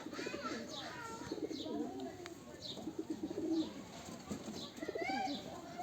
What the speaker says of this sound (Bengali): একটা সিলভার প্যাটার্নের কবুতর